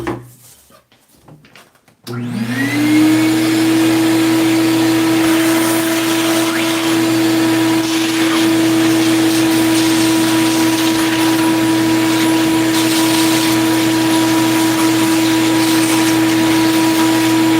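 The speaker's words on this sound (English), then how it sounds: "Vacuum out this side real quick." A vacuum cleaner switches on and runs with a loud, steady whine while it cleans out a PS5 console on a repair bench. The tone holds without a break after a short stretch of quiet.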